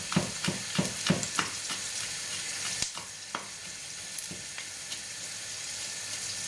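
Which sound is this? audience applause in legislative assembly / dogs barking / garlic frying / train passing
garlic frying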